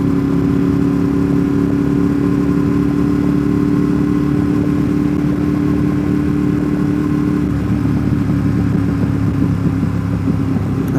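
A high-mileage motorcycle cruising through Great Smoky Mountains National Park, its engine a steady, loud, close drone with constant rumble and wind noise and no break for the full duration.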